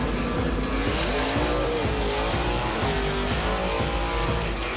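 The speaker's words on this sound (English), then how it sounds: "he spun a little bit on the starting line and aborted that run at half tracks" Gasser drag race car roaring loud and close in a continuous run. It spins its tires on the starting line, with squealing rubber over the raw engine note, before the run is aborted at half track.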